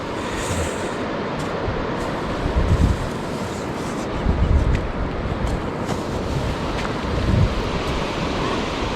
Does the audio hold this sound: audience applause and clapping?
no